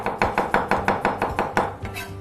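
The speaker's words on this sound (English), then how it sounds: "I'm going to chop those up very finely with some garlic." A knife chopping finely mashed anchovies together with garlic on a board, a quick steady series of about ten sharp close taps, loud and alone with no voices.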